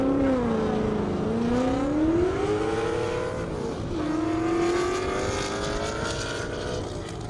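Drag racing cars making runs at an airport strip, a loud engine note sweeping up and down in pitch as cars accelerate past, sustained roar with no talking.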